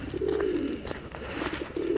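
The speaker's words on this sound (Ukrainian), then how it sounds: "Дивіться, скільки пташок." Pigeons cooing outdoors in Kharkiv, steady overlapping low coos that carry on close by and fairly loud, no talking.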